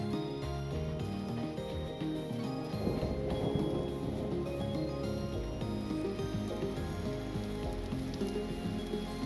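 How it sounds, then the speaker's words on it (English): Rain falls steadily in the video game Vintage Story, a soft continuous patter mixed with layered game music tones throughout. "just in time, it started raining to make life so much easier for charcoal burning"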